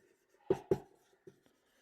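Marker or chalk strokes on a board during a Hindi-language class 10 chemistry lecture: two firm, close scratchy strokes followed by a couple of lighter taps, faint and near, with no talking.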